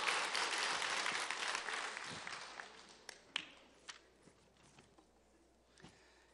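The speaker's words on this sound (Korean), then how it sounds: "20명 박수 치고" A church congregation at a Sunday-night evangelism testimony service at Daejeon Jungbu Church breaks into dense, loud applause that gradually thins out and fades, leaving a few scattered claps near the end.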